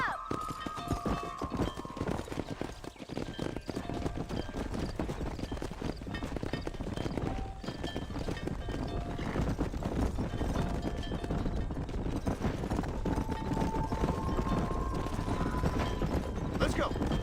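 Rapid clip-clop hoofbeats of a horse galloping in the Western video game Red Dead Redemption, a steady drumming rhythm with occasional whinnies, distant gunshots and game music mixed in.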